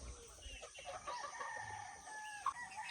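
Free-range chickens clucking while being fed leftover cassava puto, soft scattered clucks and a short crowing call nearby, fairly quiet with light background noise.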